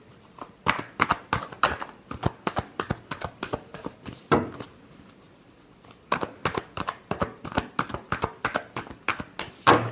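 Tarot cards shuffled by hand in quick bursts of crisp riffling snaps and flutters, with a short pause midway before the rapid shuffling resumes, close and clear.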